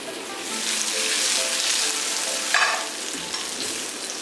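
A close, continuous sizzle of tofu pieces frying in a small amount of oil in a hot flat pan, with a brief sharper spatter burst near the middle and no speech.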